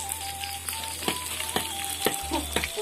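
Catfish frying in a pan of hot oil gives a constant crackling sizzle, with repeated scraping and clinking stirs of a utensil at irregular beats and a low burner hum beneath.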